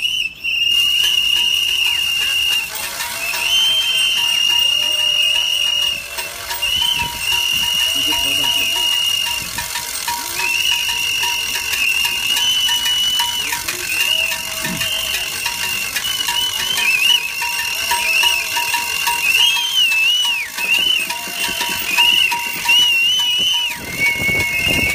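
Many shrill whistles blown over and over by a crowd of protesters at a street demonstration, loud and continuous, with a dense din of voices and noise underneath.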